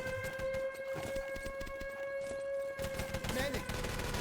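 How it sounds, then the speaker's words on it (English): MP40 submachine gun fire in the online shooter Enemy Territory: Legacy, rapid rattling bursts mixed with other battle noise and a steady tonal hum, with a voice faintly under the action. "Mouse's 2 MP40 frags do the damage as well."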